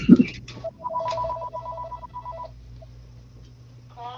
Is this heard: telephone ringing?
yes